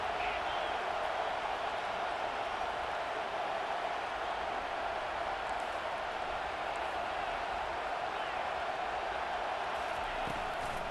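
A home crowd roars in the EA Sports College Football 25 video game, a dense and steady wall of stadium noise that fills the whole stretch.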